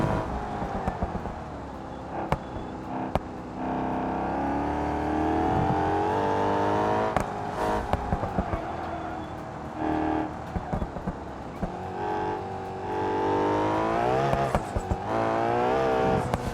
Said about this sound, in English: now we're going to do a lap in this stock car and just see how it goes